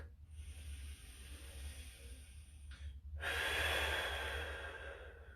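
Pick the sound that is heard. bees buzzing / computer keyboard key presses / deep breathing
deep breathing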